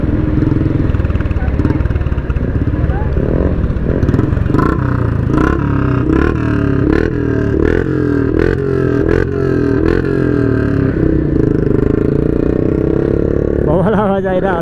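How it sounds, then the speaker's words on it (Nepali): A motorcycle engine rumbles loudly and close during a group ride toward a waterfall in Chitwan, with repeated throttle surges and some clatter, and people talk over the noise. "बवाल आवाज आइरह होला होइन बाइकको।"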